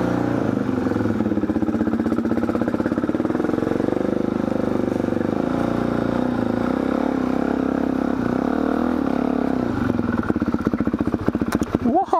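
A motorcycle ridden in late afternoon traffic, its engine droning loud and steady close to the mic throughout, with a brief rev and clatter near the end.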